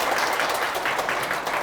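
Audience applause welcoming a professor to a science lecture, a dense, steady wash of many hands clapping throughout, fairly loud and even.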